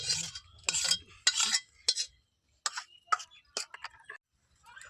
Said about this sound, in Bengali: একটু চিনি দিয়ে ভালো করে নাড়াচাড়া করে নেব।